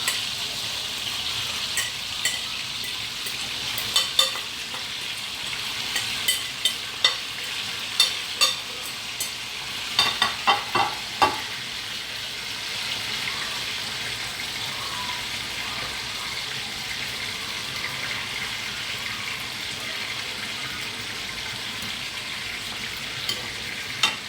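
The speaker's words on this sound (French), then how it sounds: "je vais mettre mes oignons par-dessus" Onions frying over cooked cassava leaves in a pot, a steady close hiss of sizzling with scattered crackles and pops, louder bursts clustering near the middle, no voices.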